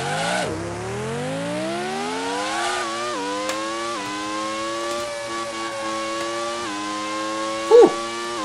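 Race cars in the Grand Prix 2 video game at Hockenheim, a synthetic engine drone climbing in pitch through repeated gear shifts with brief dips between them, steady and fairly loud, with a short squeal near the end.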